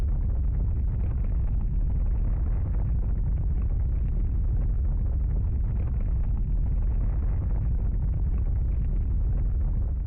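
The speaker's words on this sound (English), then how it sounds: "Chief, the ground is shaking. It's a heavy tank," Heavy tank fleet from the video game Path to Nowhere, a constant deep rumble with ground-shaking low-end weight, loud and unbroken throughout with no voices.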